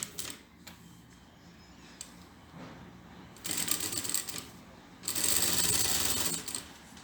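A sewing machine stitches the waistband of a straight skirt in bursts of rapid mechanical chatter, quieter at first and then louder in two longer runs, with no talking.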